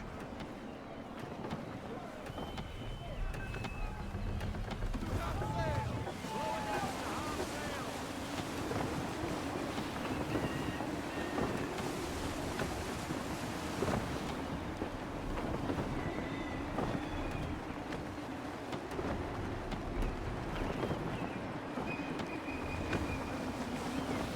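Gusty wind rushes steadily over a sailing ship at sea in Assassin's Creed 3, with creaking and water wash underneath, a continuous broad roar holding at moderate level throughout with no talk.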